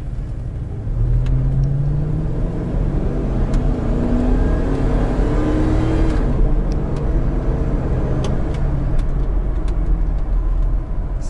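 A Hummer H2 accelerating hard on a straight road, heard from inside: loud engine roar climbing in pitch through successive gears, with the drone holding strong over road noise for the whole stretch.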